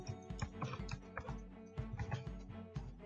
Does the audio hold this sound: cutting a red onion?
no